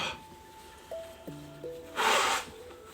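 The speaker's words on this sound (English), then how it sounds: "I just need to blow my nose." Someone blowing their nose, a short, breathy noisy burst lasting about half a second, close and fairly soft, following faint rustling and a few tonal electronic sounds.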